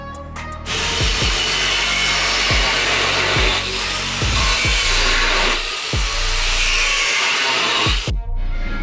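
Power saw cutting through a Toyota truck frame, grinding loudly and steadily for several seconds. Rhythmic strokes and pulses run through the cut, and it cuts off abruptly near the end.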